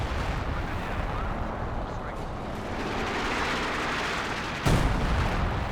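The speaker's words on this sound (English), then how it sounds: "A mine that was planted gets triggered by the howitzer." In Company of Heroes 2, howitzer shelling sets off a planted mine amid a dense, rumbling battlefield din, with a sudden loud blast near the end.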